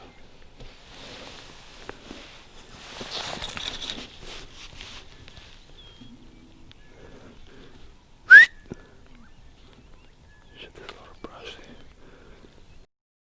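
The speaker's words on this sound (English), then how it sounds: "the good old whistle technique to get the animal to stop did work" A hunter whistles once to halt a free-range fallow deer in the Eastern Cape bush: a single short, loud, sharp whistle that stands out over quiet outdoor ambience, soft rustling and faint whispering.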